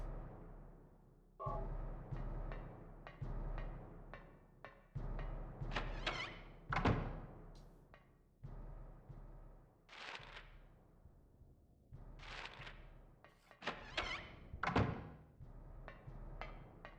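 Heavy metallic thuds of someone banging on a radiator in Silent Hill, inside Midwich Middle School, coming in irregular clustered bursts of loud knocks with short pauses, echoing through an otherwise quiet space.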